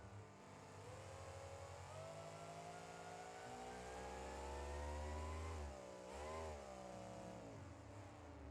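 A mini monster truck engine in BeamNG.Drive revs hard and steadily while the truck speeds toward a jump, its loud, continuous drone rising and dipping in pitch with throttle changes and no talking over it.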